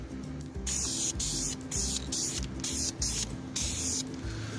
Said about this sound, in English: I'm just going to give it a little coat with some flame-proof VHT.